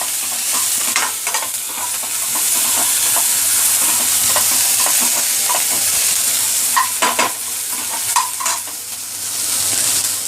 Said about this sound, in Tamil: இப்போ இது நல்லா ஃப்ரை ஆகணும்.